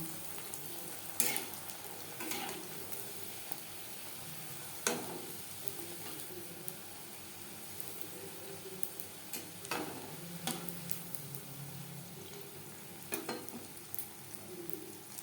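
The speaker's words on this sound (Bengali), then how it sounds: "এভাবে প্রত্যেকটা ফুচকা ভেজে নেব" Fuchka puris deep-frying in hot oil, a steady low sizzle with occasional sharp crackles and clicks of a utensil, moderately faint and close, with no talking.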